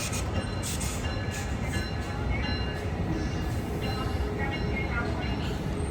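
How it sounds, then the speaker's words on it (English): An Amtrak San Joaquin passenger train pulls into Emeryville station, a steady close rumble of rolling railcars with faint metallic squeals and a brief bell-like ring over the noise. "This is Amtrak San Joaquin train 710 on its way to Bakersfield."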